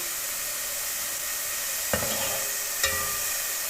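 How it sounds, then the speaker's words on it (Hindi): Sliced onions sizzle in a pan over medium heat, a constant close hiss of frying, with two light knocks of a spoon stirring partway through. "इसको जलाना नहीं है प्याज को, बस हल्का हल्का सा इसे ब्राउन करना है।"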